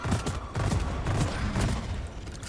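Weapon fire rattles in rapid bursts at an enemy in Deep Rock Galactic, shots aimed upward at the cave ceiling, with repeated gunshots and booming impacts mixed with game noise and no voice.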